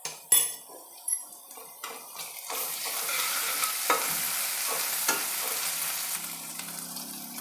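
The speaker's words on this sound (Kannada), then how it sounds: "ಈರುಳ್ಳಿ ಫ್ರೈ ಆಗ್ತಿದೆ" Onions with curry leaves frying in a pan, a steady sizzle under several loud clinks and scrapes of a spoon stirring against the metal, close and without voices.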